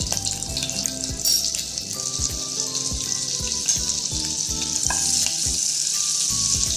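A spoonful of butter added to about two spoons of hot oil in a kadhai, crackling and sizzling up close with sharp pops and spits over a steady hiss.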